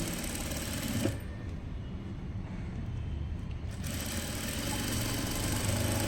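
A sewing machine stitches the side seam of a blouse, its motor giving a steady, continuous whir that holds evenly throughout, with no voices.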